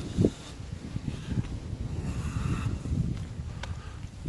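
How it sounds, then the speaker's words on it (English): Steady wind gusting and buffeting outdoors, low rumbling noise with faint rustling throughout, no voices. "it's too windy and cold"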